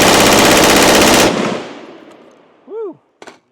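A Colt M4 rifle fires full auto on a meltdown test, a loud, dense stream of close shots that stops abruptly, leaving a fading echo and a brief whoop from a nearby person.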